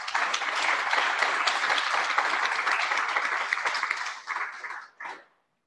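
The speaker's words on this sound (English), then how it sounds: "And I think we all should applaud her." Audience applause at a memoirs lecture event, steady and dense for about four seconds, then thinning into a few scattered claps before stopping.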